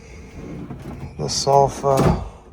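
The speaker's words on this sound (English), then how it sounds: "Drawers that come out." Cabin drawers in a Celebrity Apex deluxe porthole veranda stateroom slide out and shut in a few quick scraping runs, each ending with a soft thud, alongside a light knock.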